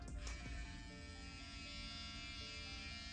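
A steady rotary electric shaver buzz, cutter spinning at 7,500 RPM, runs continuously at close range, a dense mechanical whir with a brief sharper click near the start.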